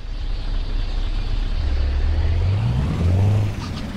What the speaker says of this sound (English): Press the following key to stop the engine.